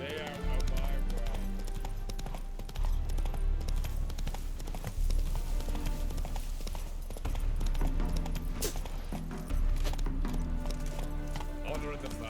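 Galloping horse hooves in The Witcher 3: Wild Hunt on Xbox Series X pound in a quick, driving rhythm under speech, with dense game sound effects and music layered around them.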